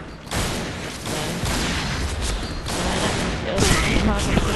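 Dense, continuous gunfire rattles from the Point Blank shooter game during sniper play, loud bursts overlapping with no pauses and a sharper volley near the end.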